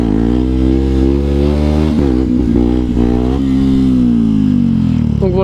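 A 125cc four-stroke motorcycle engine held at full throttle near the rev limiter, a loud, steady high-pitched drone with a brief dip in pitch midway, close and continuous for the whole stretch.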